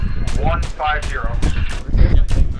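Rapid gunfire crackles in Arma 3 during a town assault training operation, with repeated sharp bursts spaced through the moment and loud speech running over them.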